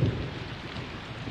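Rain in the video game Persona 4 Golden, a brief steady wash of rainfall with a low rumble at the start, even and moderately loud, no voices.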